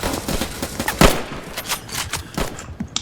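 Rapid cracks of rifle fire in the Roblox game Trenches, with a Lee Enfield among the weapons. Dense, overlapping shots ring out in quick succession, loud and close.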